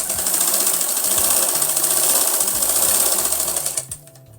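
A sewing machine stitches fabric for a Nayra-cut garment in quick, even, chattering bursts. It runs close and loud, then stops abruptly near the end.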